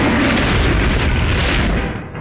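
A wand of magic missiles fires in Baldur's Gate: a loud, close, sustained booming magical blast lasting about two seconds, then fading at the end, with no talk over it.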